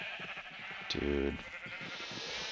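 A single sheep bleats nearby on a Minecraft sheep farm, one short wavering bleat in the middle, with a voice speaking briefly around it.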